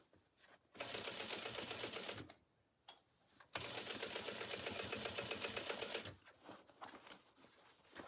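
A sewing machine stitches a canvas tote bag in two long, loud, rapid runs of needle clatter, separated by short pauses and followed by lighter handling noises.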